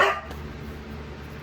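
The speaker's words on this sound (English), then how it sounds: "Excuse my dog back there." A dog gives a single short bark at the very start, somewhat muffled and off in the background of an indoor room, followed by quiet room tone.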